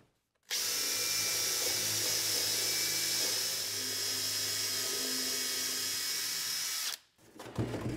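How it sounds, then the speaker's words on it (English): A power drill drives screws through plastic into a wooden board, whining loud and steady for about six seconds before stopping abruptly, with no voices. "I have this plastic stuff and yeah, I want just to screw it to this board."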